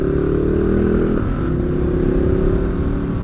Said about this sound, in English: This is a daily friendly sport bike.